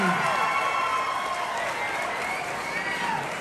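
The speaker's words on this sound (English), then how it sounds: "Come give her a round of applause." A convention crowd at Midsummer Scream 2023 claps and cheers in a sustained burst of applause, loud and continuous throughout.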